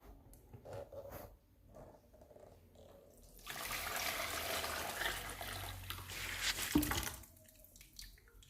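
Water pours steadily out of a kettle crusted with limescale, a rushing, splashing stream lasting a few seconds before tapering off, preceded and followed by quieter drips and handling noises.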